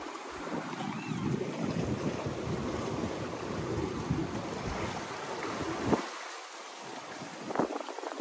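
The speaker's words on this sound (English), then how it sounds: "I'm not used to being in this much rolly swell action and this much wind" Offshore sailboat in heavy rolling swell and strong wind, with continuous roaring wind noise buffeting the microphone and water rushing and sloshing against the hull throughout, briefly easing before gusting again near the end.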